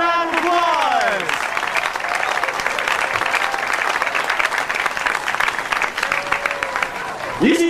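A comedy club crowd claps loudly and continuously, thick sustained applause with brief spoken voices audible at the start and the end.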